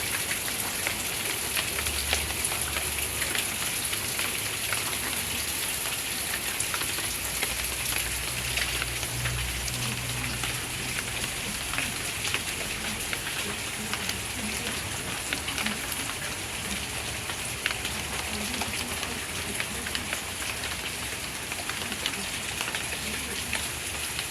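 A sudden summer downpour patters steadily on surfaces outdoors, a dense continuous hiss of rain with no break across the whole stretch.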